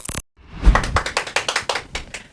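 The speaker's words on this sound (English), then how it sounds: "Y'all supposed to clap." An audience claps in a short burst after a brief quiet gap, with scattered rhythmic hand claps at a live talk show taping, moderately loud and close.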